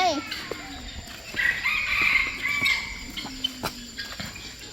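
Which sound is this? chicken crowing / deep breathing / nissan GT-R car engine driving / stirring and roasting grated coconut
chicken crowing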